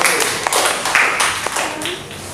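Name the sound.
applause, clapping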